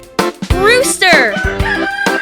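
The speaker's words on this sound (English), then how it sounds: "Rooster." A rooster crows a loud, close cock-a-doodle-doo lasting about two seconds, set among farm animal sounds in a children's sing-along.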